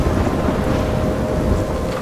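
A Life Is Strange video game thunderstorm produces heavy, steady rain and a deep, rumbling thunder roll, filling the short stretch with loud, continuous noise and no voices.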